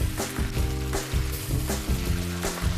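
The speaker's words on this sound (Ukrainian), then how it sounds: "Кілька хвилин смажимо все це разом" Sliced potatoes and onion rings fry together in a pan, a loud close sizzle pulsing in regular swells as they are stirred, with no voice.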